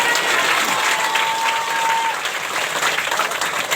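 A church audience claps together in a dense, steady burst of applause that stays loud for a few seconds, with a faint tone running underneath.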